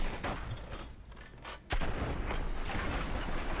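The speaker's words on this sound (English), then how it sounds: "Take a look here at legacy, SMG hip fire, or just me trying to aim." Fortnite SMG hip-fire gunshots crack in dense rapid bursts, loud and close, with a brief dip in the middle before another sharp burst and sustained firing.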